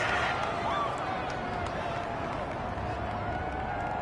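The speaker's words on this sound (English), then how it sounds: "Well, this crowd does not like that call." Video game football stadium crowd reacting to a roughing-the-passer penalty call, a continuous loud wash of crowd noise with faint cheers and whistles under a commentator's voice.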